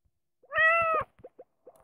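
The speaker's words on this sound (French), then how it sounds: "Par contre, s'il chiale, s'il fait que miauler." A single short cat meow from a video game, clear and close, followed by a few faint soft clicks.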